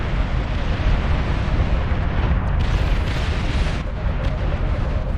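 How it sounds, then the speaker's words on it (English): Dense, continuous artillery barrages from Beyond All Reason rumble and crack without pause, a thick wall of overlapping explosions heard close and loud throughout. "Look at that artillery."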